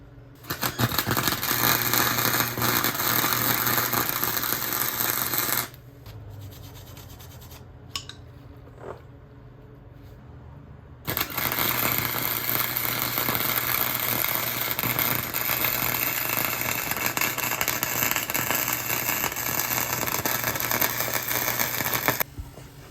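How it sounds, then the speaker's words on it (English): Welding an exhaust part for a 1950 Plymouth 218 inline six engine: a loud, steady crackling hiss that runs in two long bursts, separated by a quiet pause with small clinks and handling noises. "And then we'll start welding."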